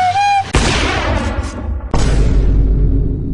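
Two loud, close sniper rifle shots about one and a half seconds apart, each a sharp crack followed by a long booming echo, after a brief tone at the start.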